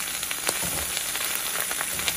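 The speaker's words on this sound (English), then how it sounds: "what I wanted to do here was fry my bacon on my new griddle" Bacon frying on a new cast iron griddle makes a close, steady sizzle with scattered crackles and pops throughout.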